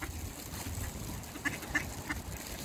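Ducks on a snowy shore being fed give a few scattered soft quacks, faint and somewhat distant, over steady outdoor background noise, with no talk.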